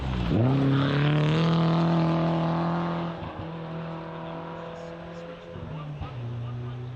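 A rally car on a forest stage roars in close and loud, its engine note sliding down as it passes, then settles into a steady fading drone as it moves away.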